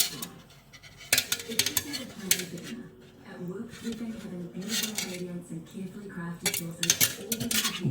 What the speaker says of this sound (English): so just going to shift the pots